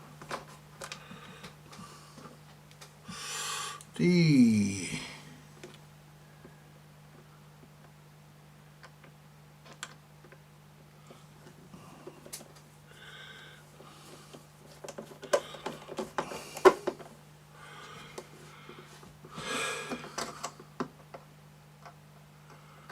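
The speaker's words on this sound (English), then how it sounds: "Let's get the screws back in for the motorboard." A screwdriver drives ordinary slot-head screws into the motorboard of a Dansette Automix record player, giving scattered faint ticks and clicks with one brief squeak of turning metal early on, and no talk.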